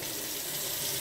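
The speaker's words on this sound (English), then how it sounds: "just going to put it on cold, which here our water never really gets that cold because it's so hot outside." A kitchen faucet runs cold water into a sink as a steady, loud, close-up rush of flowing water with no speech.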